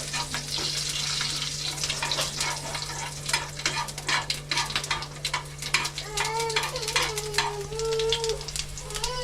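Garlic cloves stirred and fried in a pan over low flame for a Kerala-style chutney, a continuous close sizzle with scraping stirs, a steady hum underneath and a voice talking over it.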